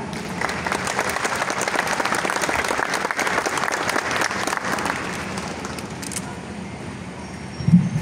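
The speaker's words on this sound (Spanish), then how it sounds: "recibimos con un fuerte aplauso." Strong, sustained applause from an audience at a municipal health-team presentation in El Pital, Huila, welcoming the mayor, with dense clapping holding steady for about six seconds, then thinning as a voice begins under it.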